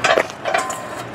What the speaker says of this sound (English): Simply remove the front attachment by pulling the pin